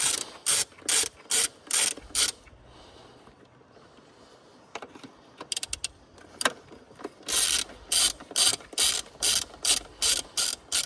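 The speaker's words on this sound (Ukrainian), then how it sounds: "Обережненько викручую." A ratchet wrench loosens a fuel injector on a Kia Carens 3 with a G4KA engine, loud close clicking strokes in quick bursts, a quieter pause, then more rapid ratcheting.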